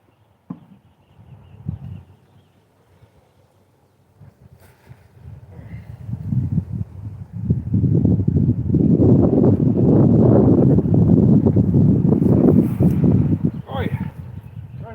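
Strong outdoor wind roars and buffets in a yard where fallen fruit is being collected, building from a quiet start into loud sustained gusts with microphone rumble, while someone talks briefly near the beginning.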